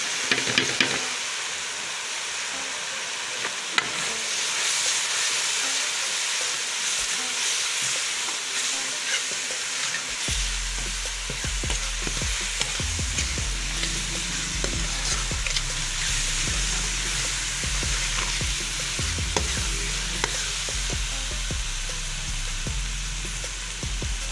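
Spices sizzle and crackle steadily in a hot pan for a black chickpea curry, a loud continuous frying hiss, with stirring scrapes and a low hum joining partway through, and no talking.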